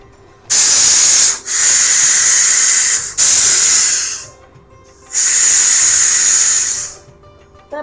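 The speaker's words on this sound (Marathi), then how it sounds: "तर आपल्या 4 शिट्ट्या झालेल्या आहेत." A pressure cooker cooking spinach for a Maharashtrian garagatta releases steam in loud, close hissing whistle bursts, three long blasts separated by brief pauses.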